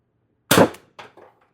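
A single sharp air-gun shot from a Mercury Rise torpedo air gun during CO2 or HPA testing, loud and close, with a short crack followed by two quick fainter mechanical clicks.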